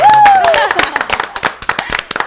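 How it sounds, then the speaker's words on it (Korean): Applause from a studio audience on a Korean news talk show: close, sharp claps from a small group break out right after a brief spoken phrase and continue to the end. "큰 박수 한번 주세요"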